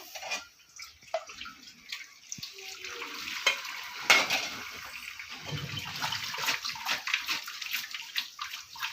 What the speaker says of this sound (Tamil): இந்த கூலிங்க தண்ணி ஊற்றிடணும் ஒரு செம்பு ஊற்றுறேன்